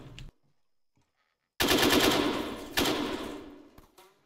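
Bursts of automatic gunfire in a military shooter video game: a short crack, a pause, then a loud sustained volley of rapid shots followed by a second burst that fades out, close and dominant.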